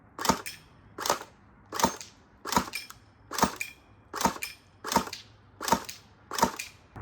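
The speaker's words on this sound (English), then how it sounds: "doing a few taps of single fire, you'll see from my big camera what the spread looks like" Tokyo Marui AA-12 airsoft shotgun firing single shots, about ten sharp cracks at a steady pace roughly every three-quarters of a second, close and loud with no talking.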